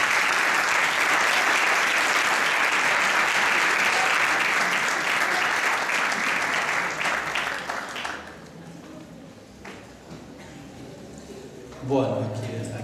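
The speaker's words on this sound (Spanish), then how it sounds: "Lo recibimos con un fuerte aplauso al padre." An audience at a lecture on the Christian and love of the homeland gives a loud, sustained round of applause welcoming a priest; it fades after about eight seconds, leaving a quieter room and a voice starting to speak.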